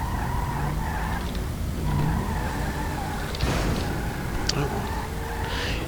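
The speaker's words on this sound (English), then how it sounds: "sorry I crashed your car." Car skidding and tire squeal in the LSPDFR police game, with a steady engine drone, sliding tire noise and a short thump of impact midway, loud and close, mixed with game radio chatter.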